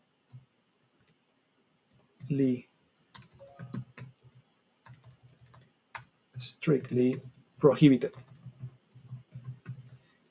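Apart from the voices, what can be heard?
typing on a computer keyboard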